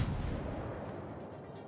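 Incoming battleship shells from a Massachusetts in World of Warships: a low, rumbling distant boom that fades over under two seconds, fairly quiet.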